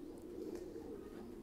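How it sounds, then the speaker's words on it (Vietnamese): A pair of large straw-yellow American giant pigeons, about 2 kg together, cooing softly and continuously at close range, a low steady murmur with no talk. "Đây là một cặp chim bồ câu màu vàng rơm mọi người nhé"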